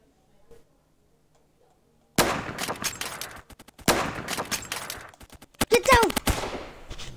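Roblox gunfire in rapid bursts of sharp cracks and rattling volleys after a quiet opening, dense and loud, with a voice talking over parts of it.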